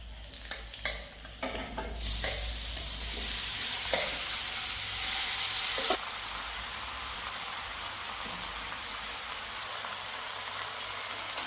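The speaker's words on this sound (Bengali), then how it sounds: "আমরা এখন মাংস দিতেছি।" Pork meat is added to a pan for a lemon pork dish and fries with a loud, dense sizzle that surges after a few clattering scrapes, then settles to a steady hiss with occasional stirring knocks; no voices.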